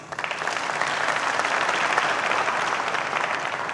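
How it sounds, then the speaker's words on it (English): Audience applause at a tech skills program graduation ceremony, a dense steady roar of many hands clapping that holds for several seconds without a break. "Please give them a clap."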